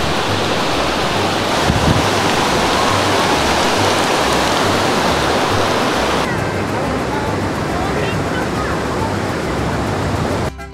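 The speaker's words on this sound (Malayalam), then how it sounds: "ദേ കാണുന്നത് തുമ്പർമുഴി ഡാമാണ്. അവിടുന്ന് വെള്ളം അങ്ങോട്ട് കുത്തിയൊളിച്ച് വരുന്നത് കണ്ടില്ലേ" Water gushing from Thumboormuzhi dam forms a loud, steady broadband roar of rushing water that holds constant throughout, with a rainy outdoor atmosphere and a faint low hum beneath.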